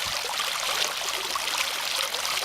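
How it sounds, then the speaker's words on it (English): Water runs steadily down a flume, a constant bright rushing hiss with no breaks, close and fairly loud, with no voices. "Is the motion of this fluming water interesting"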